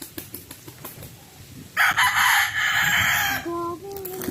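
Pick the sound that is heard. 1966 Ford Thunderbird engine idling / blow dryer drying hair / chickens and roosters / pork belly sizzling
chickens and roosters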